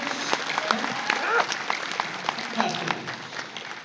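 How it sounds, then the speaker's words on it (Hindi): Steady applause from an audience welcoming a speaker fills the whole stretch, with some voices and cheers mixed in at moderate loudness. "तो जोरदार तालियां मेरे बड़े भाई सुरेंद्र बस जी के लिए"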